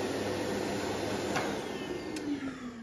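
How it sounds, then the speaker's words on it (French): A vacuum cleaner powered by a Romoss RS500 portable power station runs steadily with a loud, even broadband whir, continuous throughout with no voices. "elle est capable de lancer un aspirateur et d'aspirer."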